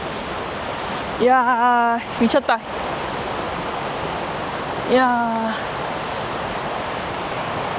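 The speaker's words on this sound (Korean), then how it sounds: "엄청난 폭포가" A huge waterfall on the Oirase Stream roars as steady broadband noise across the whole clip, and excited voices break in twice over it.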